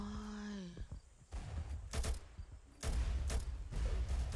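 Gunshots ring out in Roblox Mad City, a few sharp bursts spaced across the moment amid game clatter and thumps, after a short electronic tone at the start.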